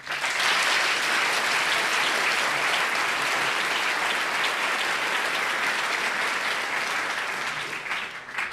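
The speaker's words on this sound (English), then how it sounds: "So if you're a student or if you're an alumni, this is your applause." Sustained, dense audience applause fills the hall at the opening ceremony of the St. Gallen Symposium, cheering students and alumni, steady and loud throughout before tapering slightly at the end.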